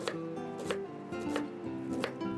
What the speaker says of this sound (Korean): 양배추의 굵은 심은 자르고 가늘게 썰어주세요.